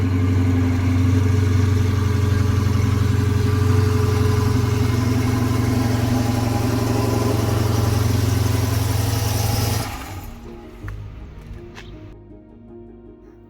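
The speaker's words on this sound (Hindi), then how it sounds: "कोल्ड स्टार्टिंग की आवाज़ सुनाते हैं।" A car engine on a cold morning idles with a steady, close drone for most of the stretch, then shuts off abruptly, leaving quiet with faint background sounds.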